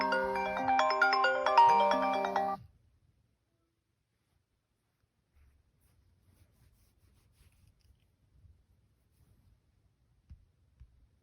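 The iPhone Reflection ringtone plays as a bright, chiming melodic pattern of bell-like tones for about two and a half seconds, then stops abruptly into near silence with faint handling noises.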